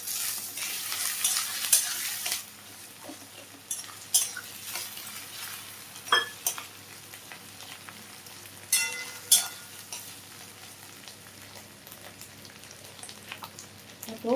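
Katla fish roe frying with chopped onions in a wok: a steady, close oily sizzle broken by several sharp scraping stirs of the spatula, with no voices.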